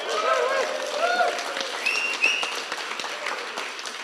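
A church congregation claps and cheers for mothers on a Sunday morning, a moderate scattered round of applause with a few calls, fading gradually over a few seconds.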